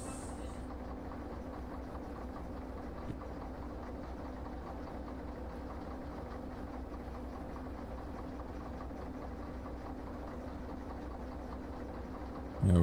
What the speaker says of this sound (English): This is what happens when you put the train into emergency.